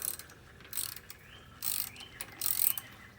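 Ratchet snugging a spark plug into a Tecumseh engine on a Weed Eater lawn tractor, several short bursts of close, light clicking separated by brief pauses.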